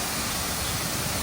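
Steady roar of Sirimane waterfall near Sringeri, running full in the rainy season, a dense broadband rush of falling water heard up close with no voices.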